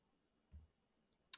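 Computer keyboard used during a live trading session: a soft, dull low thump partway in, then a single sharp, bright click near the end, both quiet and close with no talking.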